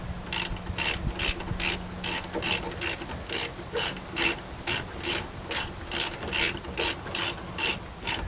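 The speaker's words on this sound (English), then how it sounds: "so we'll just throw a wrench on it." Ratchet wrench clicking as it turns a rear brake caliper pin on a Chevy Silverado/Avalanche, a steady run of about eighteen evenly spaced, close ratcheting bursts with no talk.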